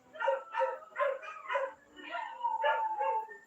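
A voice imitates a pack of dogs barking at night, with a rhythmic series of about eight yelping, bow-wow-like calls close to the microphone and no other sound.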